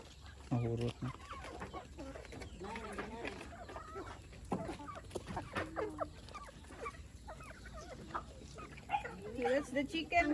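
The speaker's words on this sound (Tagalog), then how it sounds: "Okay, that's the chicken, guys." Backyard chickens clucking and a dog barking on a rural province farm at feeding time, close and intermittent, with people talking throughout.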